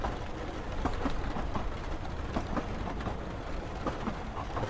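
A simulated train in Unreal Engine runs along its track with a continuous rumbling roll and a steady patter of light rhythmic clicks, even in loudness throughout, with no speech.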